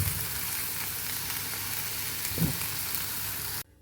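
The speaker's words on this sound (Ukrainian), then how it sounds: "А це смажаться шкірочки із грибів" Mushroom skins fry in oil in a pan with a steady, close hiss and crackle, a brief stir or scrape partway through, and no talk, before the sound cuts off abruptly.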